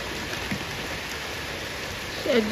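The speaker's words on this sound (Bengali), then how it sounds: "এসে গেল বৃষ্টি।" Steady rain falls in a constant hiss, with a brief faint tonal sound near the end.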